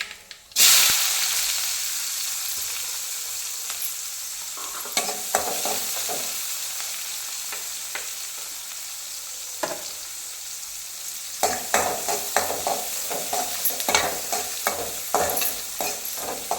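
Onions sauteing in hot oil with mustard seeds, a steady bright sizzle broken by scraping stirs of a spatula against the pan, which grow busier toward the end.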